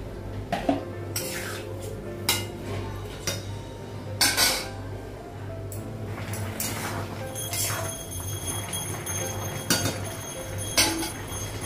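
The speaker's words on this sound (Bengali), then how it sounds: "ঢাকনাটা উঠাবো। ঝোলের জন্য জল লাগাবো।" A cooking pot lid is lifted and water is poured into a simmering curry in a home kitchen, with sharp metallic clanks and scrapes of metal utensils breaking through a low steady hum.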